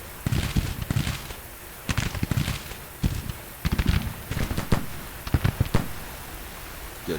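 Troops fire rifles in Grand Tactician: The Civil War, ragged volleys of crackling musketry arriving in irregular clusters over a steady hiss of battle ambience.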